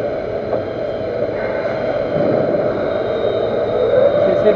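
A lathe takes the final cutting pass on an M20x2.5 thread for a metal table leveling foot, giving a steady, close machining drone with a broadband whir that swells slightly toward the end, with no talking.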